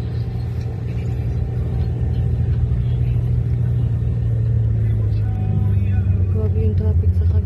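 Road traffic rumbles past across the way, a continuous low drone of cars with mild engine swells holding at a steady level throughout, with faint voices mixed underneath.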